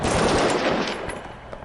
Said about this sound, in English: I still hear gunshots Assault rifle gunshots.